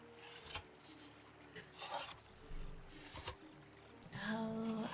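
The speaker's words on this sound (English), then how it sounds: "We're just gonna ruin that with the sound of me cutting planks" Planks are cut while crafting in Medieval Dynasty, heard as several rasping, sawing strokes of wood that swell and fade in an uneven rhythm, close and fairly loud.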